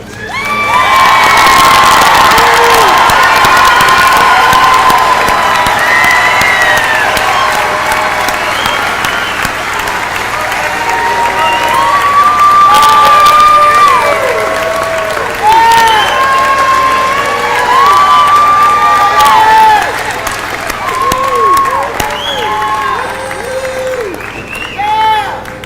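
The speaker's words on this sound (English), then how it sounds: "Give one final round of applause to all of our graduates here." Graduation ceremony crowd at Elizabethtown High School's 2024 commencement, loud sustained applause with cheering, whoops and children's shouts throughout, swelling and easing over about twenty-five seconds.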